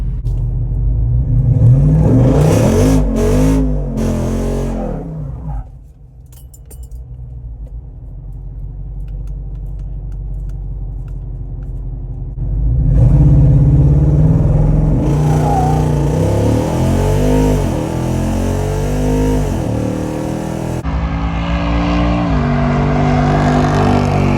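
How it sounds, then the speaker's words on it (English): A Jeep Wrangler Rubicon 392 on massive tires revs hard and launches for a drag race, its V8 roaring up through rising gears, dropping briefly, then climbing again loud and close. "I'm gonna launch it a little bit harder"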